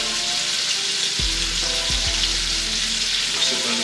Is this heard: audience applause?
no